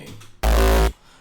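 An unprocessed kick drum tail sample: one short, loud, booming low hit lasting about half a second, dense and sustained, then cutting off sharply into quiet.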